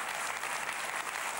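A studio audience on a cooking show in Hamburg applauds steadily, a dense even wash of clapping that continues without a break.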